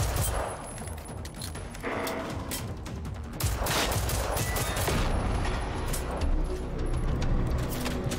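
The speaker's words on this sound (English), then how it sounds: "Oh, they're shooting at me." Enemies firing guns in Generation Zero, sustained rapid automatic gunfire and scattered shots crackling loudly and continuously, with dense overlapping bursts throughout.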